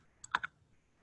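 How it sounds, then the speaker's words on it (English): Three quick, crisp taps on a computer keyboard come close together near the mic, followed by quiet, with no one speaking. "whoa, I started typing."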